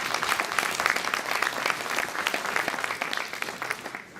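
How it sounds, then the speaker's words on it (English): Audience applause fills a DC Democrats gala hall, a dense, steady wash of many hands clapping close and loud for about four seconds, fading slightly at the end with no talking over it. "Let's give her a big round of applause."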